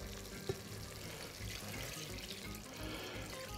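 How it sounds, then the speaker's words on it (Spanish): Water is poured into a pot to make Castilian garlic soup with bread soaked in oil, a steady faint splashing stream running the whole time, with one small clink near the start. "Bueno, vamos a ponerle ahora agua."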